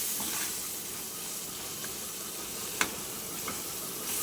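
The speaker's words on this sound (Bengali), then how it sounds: "টমেটোটা একটু ভাজা ভাজা হবে" Chopped tomatoes with turmeric and salt fry in a pan for a drumstick dish. A steady, even sizzle and hiss runs throughout, with a few faint ticks and one sharp click.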